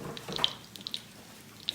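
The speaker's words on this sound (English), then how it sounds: "Rinse my hands real quick." Water running softly from a kitchen tap as hands are rinsed, a faint steady trickle with small splashes and drips.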